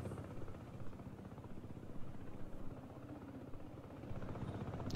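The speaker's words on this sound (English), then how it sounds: "I thought I'd try out a helicopter to start." A helicopter in the video game Broken Arrow flies with a low, pulsing rotor thump and a steady engine whine, quiet and continuous, with no talking.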